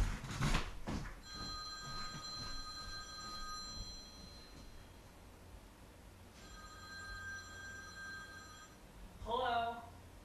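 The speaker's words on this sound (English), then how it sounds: "that's the phone. I got it ringing." A telephone rings in two bursts of repeating electronic tones, moderately loud in a room, with clatter at the start and a voice talking briefly at the end.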